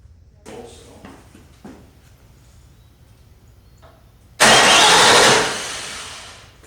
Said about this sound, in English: It starts up here in the video really quick, or pretty quick.